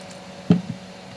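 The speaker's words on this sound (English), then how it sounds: "Little by little I'll add water and make it into a smooth batter." A single soft, wet squish as water is added to besan (gram flour) batter in a bowl, close and quiet, with a faint second squelch just after and no talk.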